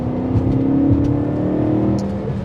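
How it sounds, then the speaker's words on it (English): A 2007 BMW M3 with a V8 and manual gearbox gives a brief throttle blip. The engine note swells slightly and then settles over a steady, close drone, with no one talking. "A little blip on the throttle."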